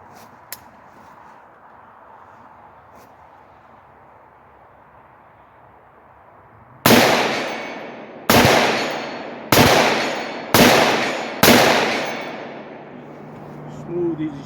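Five sharp, loud rifle shots from a 7.5 inch AR fired at 100 yards, spaced about a second apart, each with a short decaying echo outdoors.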